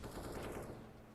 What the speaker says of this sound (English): Landing bullets, but not the kill into Voxel